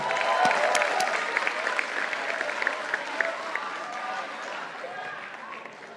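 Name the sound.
applause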